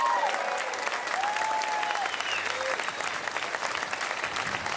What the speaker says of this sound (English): How about a nice warm round of applause for the Indiana National Guard 38th Infantry Division Band here today